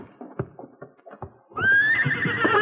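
Horses on a radio drama: a few soft hoof thuds and knocks, then a loud, close neigh that carries on as riders mount.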